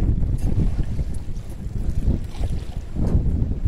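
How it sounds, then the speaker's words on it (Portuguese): Strong wind buffets a fishing boat, a loud low rumble of gusts battering the microphone in continuous waves with no clear pauses. "é muito vento, hein?"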